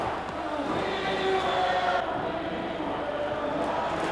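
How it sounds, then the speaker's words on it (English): Large, noisy football crowd at Rugby Park, Kilmarnock, a steady roar of many voices filling the stadium throughout, with a commentator talking over it. "So away we go in front of a huge, noisy crowd here at Rugby Park"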